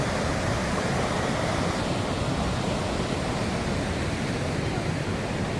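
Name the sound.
waves of rushing water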